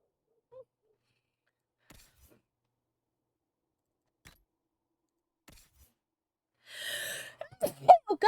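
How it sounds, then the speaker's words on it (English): A person lets out one big, loud sneeze after a few quiet seconds, followed at once by short exclamations from the same voice. "Big sneeze. It was a big sneeze."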